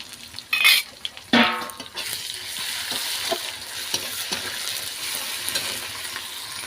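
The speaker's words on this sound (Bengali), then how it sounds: "লাল লাল ভাজা হয়ে গেছে, এবার আমি রসুন দিয়ে দিলাম।" Garlic sizzles in hot oil in a pan with browned onions, under a spoon's scraping stirs and a few sharp clinks against the pan, fairly close and at moderate volume.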